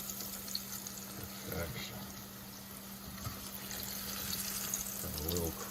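Tofu fries in a pan of hot oil with a faint, steady sizzle and bubbling, while a voice speaks briefly in the background.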